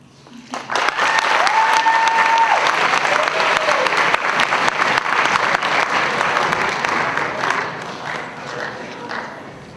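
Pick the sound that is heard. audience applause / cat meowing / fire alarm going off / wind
audience applause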